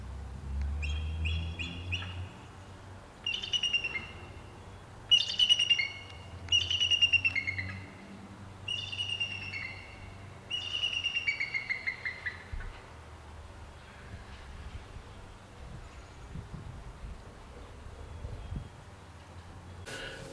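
Pet birds chirp nearby in clear bursts of bright repeated tweets, separated by short pauses over a quiet indoor background, with no talking.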